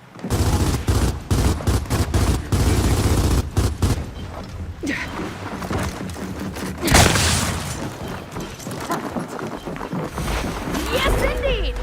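Rapid gunfire volleys and a grenade blast in a video game: dense repeated shots in the first seconds, then a sharp burst, followed by a lingering rumbling tail with scattered further shots throughout.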